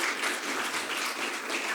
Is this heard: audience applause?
yes